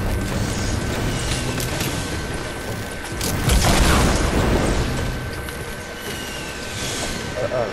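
Rocket blasts and booms in a Fortnite Battle Royale squad match, a dense, continuous wash of game noise that swells into a louder burst midway, with talk mixed in.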